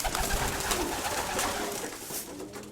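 A grey pigeon coos nearby in a few soft, throaty bursts over a noisy background.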